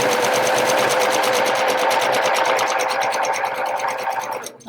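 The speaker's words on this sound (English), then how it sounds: "I will start sewing from the bottom, going to the top of the seat." Sewing machine running steadily and close while stitching a jeans waist seam, a fast continuous mechanical whir with a rapid needle rhythm that stops abruptly at the end.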